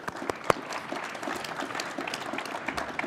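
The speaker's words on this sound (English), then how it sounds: "they deserve a round of applause" An audience claps in a steady round of applause at a mayor's announcement event, a dense crackle of many hands at moderate volume with one sharper clap standing out early on.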